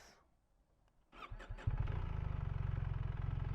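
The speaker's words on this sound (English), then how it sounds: "So test drive part 2 is Volker at the wheel with the BMW R" A BMW R1300 RS motorcycle fires up after a brief quiet stretch, a few clicks and catches giving way to a steady, throbbing low idle close by.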